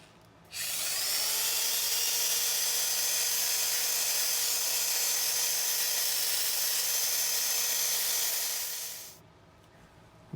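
A power sander works a walnut wood piece, a steady loud high whirring hiss that starts abruptly, holds for about nine seconds, then winds down, with no talking.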